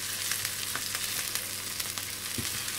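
Onion fries in a pan until golden, a soft steady sizzle with occasional light crackles and a faint stir or scrape, close but quiet, with no voices.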